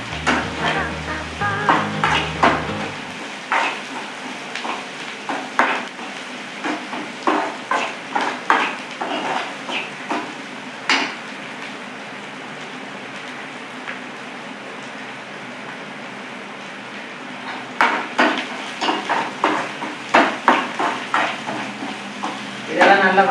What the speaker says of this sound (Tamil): தேங்காய் நல்லா எண்ணெயிலே வதங்கணும்.